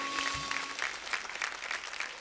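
A studio audience on a Marathi television show applauds an award, with moderately quiet, continuous clapping from many hands.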